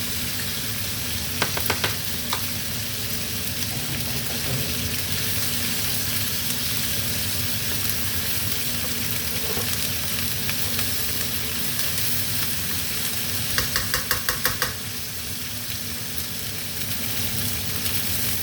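Tomato paste frying in a pot for beef short ribs gives a steady, dense sizzle throughout, with a few brief clusters of sharper clicks and scrapes from stirring, close and fairly loud.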